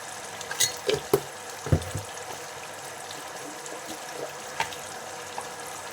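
A spiced masala mixture with sugar and garam masala frying in oil, a low continuous sizzle broken by a few sharp spoon scrapes and taps early on, no voices.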